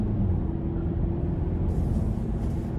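A 2025 Hyundai Sonata SEL with a non-turbo 4-cylinder accelerating in sport mode, a steady low engine rumble with road noise heard from inside the cabin, no talk.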